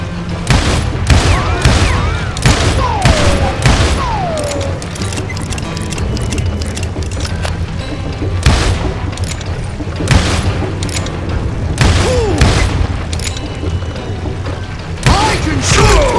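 Rapid gunfire in the Western shooter Call of Juarez: Gunslinger, loud overlapping shots and booming blasts in dense bursts throughout, with shouting voices mixed in.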